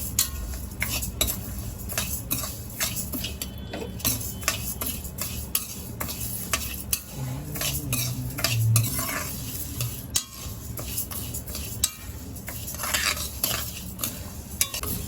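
Ground methi laddu mixture with urad dal roasted over high flame in a hot kadhai, a spoon scraping and stirring in a steady, repeated rhythm close up under a faint sizzle, with no talking.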